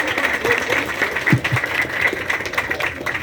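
Audience applause at a public ceremony opening an electric bus terminal, a steady broad clatter of clapping lasting throughout, moderately loud and continuous without a clear break.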